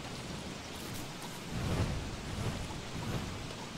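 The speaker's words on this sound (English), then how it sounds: "Because of course it's raining, so it's going to get bad fast." Rain falls steadily in the Don't Starve video game, a soft even hiss with low thunder rumbling up midway and lingering, fairly quiet, with no talk.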